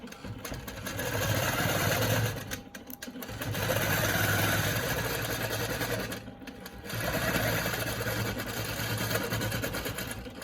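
A longarm quilting machine stitching along a ruler runs in steady whirring bursts with a rapid needle rhythm, pausing briefly twice between runs, close and alone.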